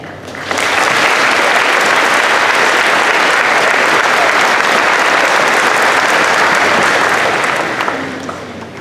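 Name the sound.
graduation audience applauding families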